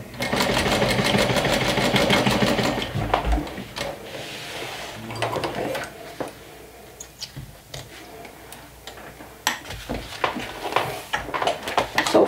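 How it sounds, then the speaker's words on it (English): A sewing machine stitches through two fabric layers of a fold-over clutch, a close rapid mechanical ticking run that stops midway, then resumes in shorter irregular bursts with handling sounds. "now I'm going to remove the lining and stitch through these two layers"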